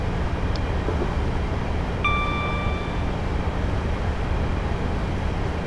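A Class 15 diesel locomotive in Train Simulator 2015 runs at full power, its engine a steady loud rumbling drone with broadband rail noise, plus a brief high tonal whine partway through.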